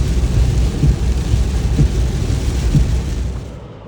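Thunderstorm raging over a German motorway: heavy, continuous rumble of rain and storm noise with low thunder swells, loud and steady, fading slightly at the end, no voices.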